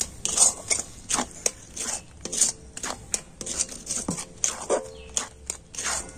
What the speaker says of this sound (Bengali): এখন আমি সবকিছু খুব ভালো করে মিশিয়ে নিচ্ছি